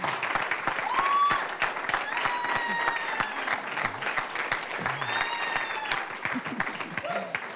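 A conference audience applauds steadily for a youth HIV activist at a UNAIDS event in Geneva, with dense crisp clapping, scattered whoops and cheers, and a few voices calling out over it.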